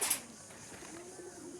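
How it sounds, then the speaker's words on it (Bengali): Jalalia pigeon chicks cooing in a coop, a faint low murmuring coo drawn out across the clip, soft and close amid quiet background hiss, with a brief sharp rustle at the start. "আমার খোপে দুইটা জালালিয়ার কবুতরের বাচ্চা আইছে"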